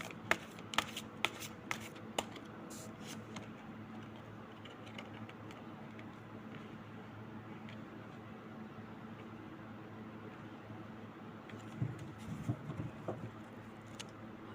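Tarot cards are shuffled close by in short, crisp riffling bursts, busiest at the start. Quieter card handling fills the rest, with no talking.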